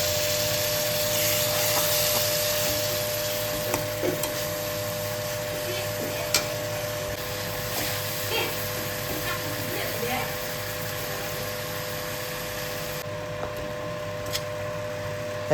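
Eggs simmering in a spiced onion gravy give a steady, close frying hiss with a few soft pops and clicks scattered throughout.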